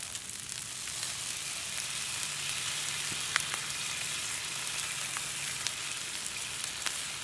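Teriyaki sauce with oil and butter sizzling and frying on a Blackstone griddle, a steady, dense crackling hiss with occasional sharper pops, continuous throughout with no voices.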